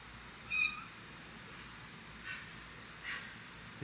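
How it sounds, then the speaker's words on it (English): A cat gives one short meow at a distance, followed by a couple of faint rustling sounds against a quiet background. "there's a cat somewhere over there"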